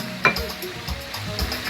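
A spoon stirs Ghanaian spinach (kontomire) stew in a hot pan, with a sharp scrape near the start followed by soft intermittent stirring and faint sizzling.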